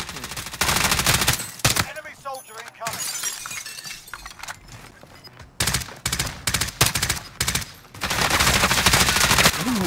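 Rapid Call of Duty Modern Rebirth gunfire in repeated close bursts, with glassy shattering and impact clatter between volleys, while a player talks excitedly over the action.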